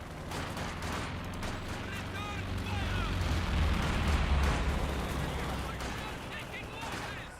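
Anti-tank gunfire in the video game Company of Heroes 2, a dense roar of firing and booming battle noise that swells in the middle, with a game voice in the mix.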